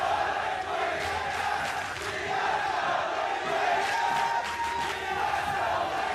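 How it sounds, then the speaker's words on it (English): An esports arena crowd at a League of Legends match chants for the teams, a rolling roar of voices with rhythmic surges that alternate across the hall, fairly distant and continuous. "they're smart enough to coordinate chants alternating so they make sure their team gets in there"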